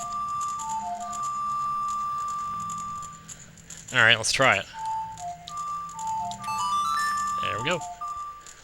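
Short ocarina melody of the Song of Time from The Legend of Zelda: Ocarina of Time, clear sustained flute-like notes in a stepping phrase, played over a soft game background hum with brief voice sounds between.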